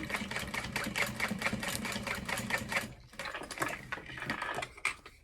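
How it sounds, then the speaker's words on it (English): A sewing machine stitching a basting line along folded fabric tabs holding D-ring hardware for a handbag gives a rapid, rhythmic mechanical chatter, then a brief pause before resuming in shorter irregular runs. "I'm folding those in half and basting along the top to make sure the hardware doesn't move"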